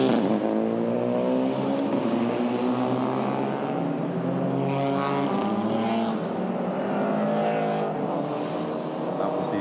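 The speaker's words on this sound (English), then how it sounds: "GR86 just going past your screen." A Toyota GR86 touring race car in a Malaysian Touring Car Championship TP2000 race passes by with a loud, steady engine drone heard from just above the track, while a commentator talks over it.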